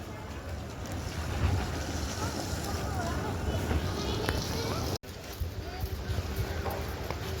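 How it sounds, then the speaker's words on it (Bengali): Cold wind gusting steadily across a nearly empty railway station platform on a cloudy, drizzly day, a broad continuous rush with buffeting against the microphone, briefly cutting out once midway. "পুরো ঠান্ডা বাতাস বইছে একদম"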